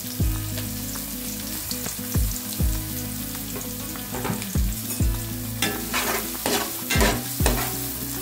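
Finely chopped onion fries over high flame for street-style gobi fried rice, a loud sizzle punctuated by repeated rhythmic scrapes and clangs of a spatula tossing it in the pan.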